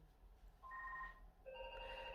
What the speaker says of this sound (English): See, now my phone's going on.